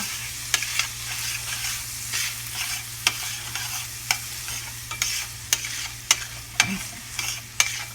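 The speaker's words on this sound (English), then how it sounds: "you're going to want to stir that around your sausage to make sure you coat every single piece of sausage" Sausage being stirred around a hot frying pan while making sausage gravy: a steady sizzle with sharp utensil scrapes and taps against the pan every second or so, close and clear, with no talking.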